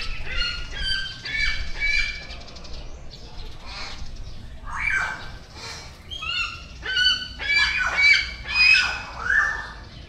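Zoo birds at a crocodile park in Davao squawk in repeated harsh, honking bursts, several calls overlapping in irregular clusters against quiet background hum.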